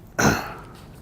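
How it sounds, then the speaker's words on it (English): A single short, harsh cough, close and loud, trailing off quickly. "I was coughing."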